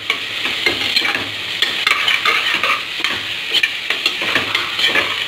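Onions sauté in a pan for mushroom biryani, a steady sizzle with rhythmic scraping strokes of a spoon against the pan repeating every half second or so, close and fairly loud, with no talking.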